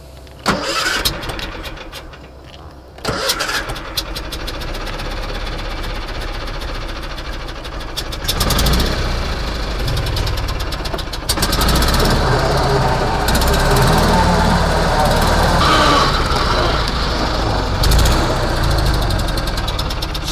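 A small engine, its choke on, starts near the mic at about a second in, cuts out briefly, then runs steadily with a rough, sputtering drone outdoors, revving up and holding loud until it stalls once the choke is taken off.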